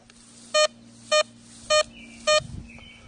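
A Garrett Vaquero metal detector beeps over a nickel buried 8 inches deep, four short, evenly spaced high tones against a faint hum.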